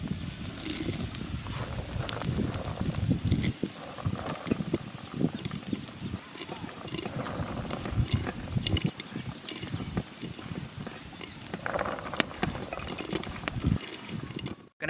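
Small rolled paal kozhukattai dumplings drop a few at a time into boiling jaggery syrup in a pot, making irregular splashes and bubbling gurgles at close range, with scattered clatter.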